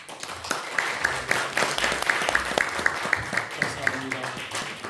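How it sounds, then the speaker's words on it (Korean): An audience at a Chongshin University seminar claps to welcome the university president: a run of quick, moderately loud hand claps with rapid, irregular rhythm, mixed with some room voices. "박수로 환영하십시오."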